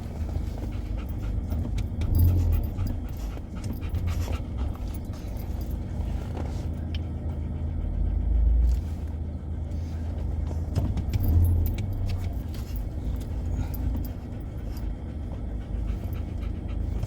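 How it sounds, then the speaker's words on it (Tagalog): A dog pants steadily close by after a workout at a playground, with a car engine running, keys jangling and a faint whimper mixed in. "hinihingal si Troy"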